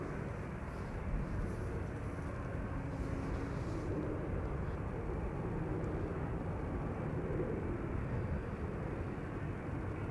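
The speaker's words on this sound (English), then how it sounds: "The E2 Embraer to Stavanger." Embraer E2 jet departing Amsterdam Schiphol for Stavanger, a steady broad jet roar holding at moderate level throughout, no voices.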